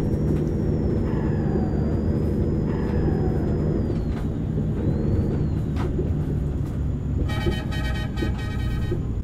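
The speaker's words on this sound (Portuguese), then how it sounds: "Ah, olha a buzininha, ó. Buzininha qualificada." A Mercedes truck with a comb fitted in its turbo rumbles loudly and steadily along a farm dirt road, and a short, bright horn blast rises over the engine drone near the end.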